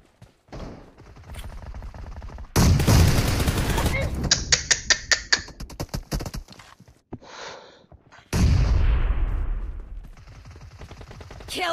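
Bursts of rapid gunfire crackle in a BGMI mobile battle royale match, loud automatic volleys in clusters with quieter gaps and single shots, while players talk excitedly over the action.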